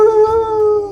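A person imitates a wolf-like howl with one sustained, loud, close tonal cry held steadily for about a second, alone without other sounds.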